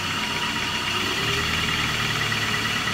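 A car's A/C compressor kicks on with the engine idling and the air conditioning at max, adding a slight shift in tone partway through over a steady, close mechanical hum and vibration.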